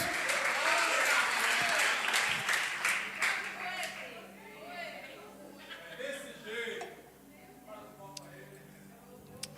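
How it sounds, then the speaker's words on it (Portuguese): Church congregation applauding during a Portuguese-language worship sermon, dense clapping at first that thins and fades, with voices and laughter mixed in. "aplauda o Senhor, glória a Deus"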